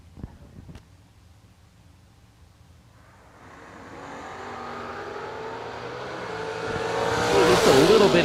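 A Chevrolet Beretta and a Vega wagon drag race cars launch at a drag strip, engines rising from a low rumble to a loud, building roar over several seconds, with a faint announcer voice early on.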